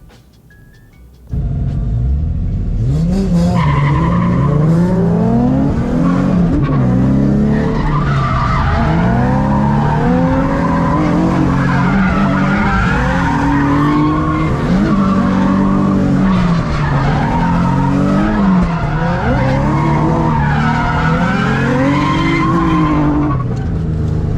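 A drift car on a competition chase run screams through continuous tire squeal and skidding, its engine revving and bouncing in loud sweeping waves for the whole stretch, close and intense.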